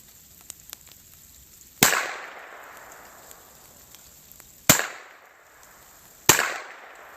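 Three sharp cracks of an Umarex Colt AR 22 air rifle, each followed by a ringing metallic ping off a steel target at 170 yards, spaced a couple of seconds apart in a quiet outdoor setting.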